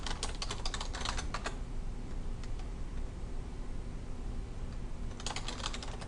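Keys on a computer keyboard clatter in quick, close bursts of typing, with a long steady stretch of softer tapping between denser flurries at the start and end.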